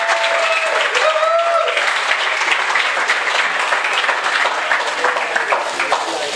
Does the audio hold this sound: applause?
yes